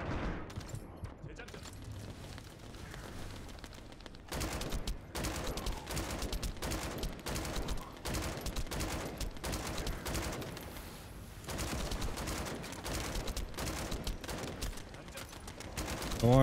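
Rapid bursts of gunfire in The First Descendant, dense and sustained for long stretches with brief lulls, loud and constant against a busy game soundscape.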